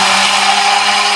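Hand blender whirring steadily in a bowl of eggless mayonnaise mixture, a loud, constant close-up motor drone with no pauses or talking.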